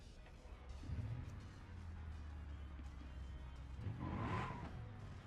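A modded car in the BeamNG driving game starts to move. A low engine drone rises and holds, then swells into a louder rev with some tire noise near the end. It sounds close, with no talking over it.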